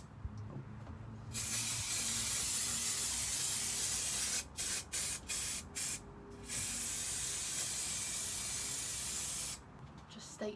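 Carpet adhesive sprays onto the floor of a VW T4 camper van in loud hissing bursts, one long spray, a string of short rapid puffs, then another long spray with brief pauses between.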